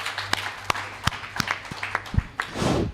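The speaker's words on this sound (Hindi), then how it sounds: "मैं चाहता हूँ उनके सम्मान में जोरदार ताली" Scattered claps from an audience at a live stage comedy show come first, then thicken into a fuller burst of applause near the end.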